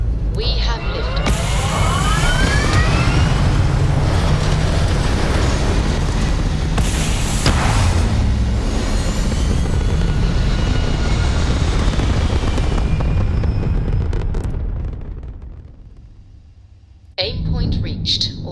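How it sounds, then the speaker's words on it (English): A rocket lifting off with a loud, sustained roar and rumble that holds steady for many seconds, then fades and drops away before a brief renewed burst of noise. "We have liftoff."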